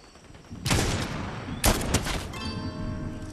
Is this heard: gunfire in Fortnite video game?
yes